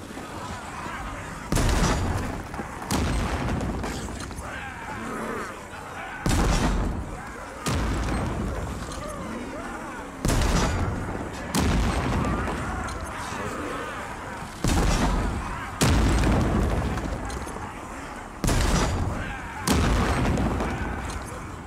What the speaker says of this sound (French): Faites tonner les canons.